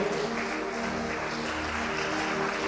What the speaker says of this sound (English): Let's give the Lord a big clap offering of praise.